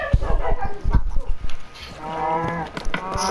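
A cow in the video game Minecraft gives several short, low moos in quick succession, close and loud, followed by a longer drawn-out moo, with faint game sounds around it.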